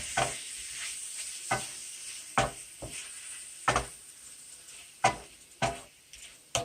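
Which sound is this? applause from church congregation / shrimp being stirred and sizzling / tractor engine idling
shrimp being stirred and sizzling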